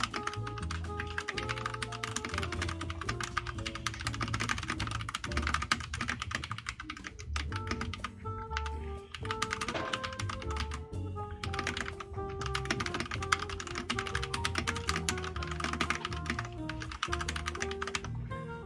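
Continuous fast typing on a computer keyboard, crisp clicking keystrokes close to the microphone with brief pauses, over faint background music.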